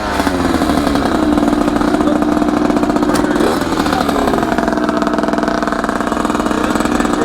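A gas-powered Sur-Ron dirt bike engine runs loud and close, holding a steady buzzing drone with a slight pitch shift midway, alone with no voices.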